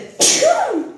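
A single sharp sneeze bursts out close by, with a quick breathy onset followed by a short voiced tail, alone with no talk around it.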